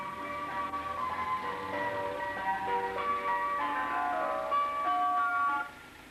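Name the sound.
ice cream van playing its tune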